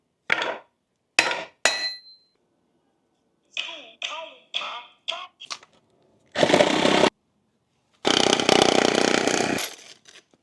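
Hammering a bearing into place by hand: a few sharp metallic strikes, then a quicker run of lighter taps, followed by two longer bursts of harsh, loud noise, all close up.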